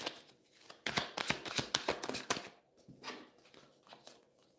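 Tarot message cards being shuffled, a burst of quick riffling flutters and slaps running for about two seconds, then softer intermittent card rustles close by, with no talking.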